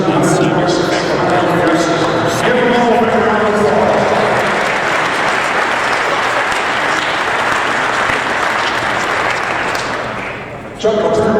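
Applause at an indoor archery nationals awards moment, a large crowd clapping loudly and steadily for several seconds before tapering off, with voices mixed in early on.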